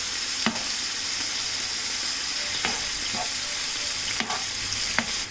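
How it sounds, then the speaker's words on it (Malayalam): Marinated chicken frying on a low flame with ginger garlic paste, a steady soft sizzle broken by a few sharp clinks and scrapes of stirring. "ഫ്ലെയിം കുറച്ച് വെച്ചിട്ട് വേണം നമ്മളിത് ഫ്രൈ ചെയ്തെടുക്കാൻ"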